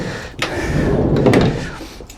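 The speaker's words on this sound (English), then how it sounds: "we'll open up this side door" Side sliding door of a 2014 Renault Kangoo ZE Maxi electric van being opened, a brief latch click followed by a rolling slide and a second clunk, close and fairly loud.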